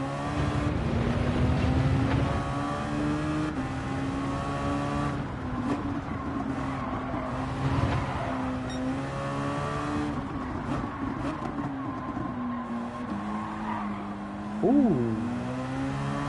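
A rear-wheel-drive race car lapping Brands Hatch Indy in Gran Turismo 7, its engine droning loudly and steadily throughout, with pitch rising and falling through gear changes and a sharp rev flare near the end.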